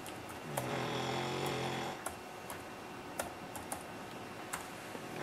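Computer keyboard keys clicking as text is typed into Google Translate, a quick burst of keystrokes followed by scattered single taps, close and fairly quiet with no talking.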